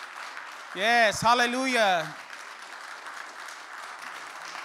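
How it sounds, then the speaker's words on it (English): A church congregation at a fellowship service applauds to honour young people. A steady burst of clapping fills the room while a voice calls out over it, and the applause continues on its own afterward. "Let's give them a clap."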